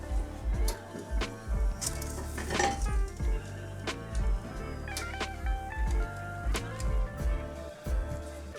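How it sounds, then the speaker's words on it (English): Metal baking pan of roasted potato wedges handled out of a kitchen oven, with repeated clanks, clinks and scrapes of metal, fairly close, under a steady background hum. "we're gonna pull out our potato wedges and bring them over to our workspace or our counter to let them cool"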